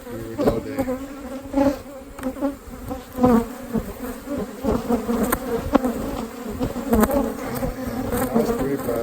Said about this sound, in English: These are some pretty strong bees that are doing well.